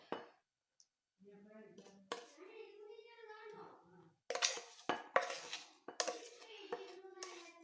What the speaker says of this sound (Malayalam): ഇനി നമുക്ക് ഇതെല്ലാം കൂടി ഒന്ന് മിക്സ് ചെയ്യാം.